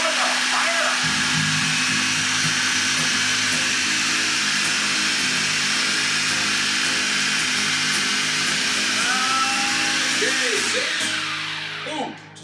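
A blender pulses apple pie filling with a loud, steady whirring motor for about eleven seconds, then spins down near the end.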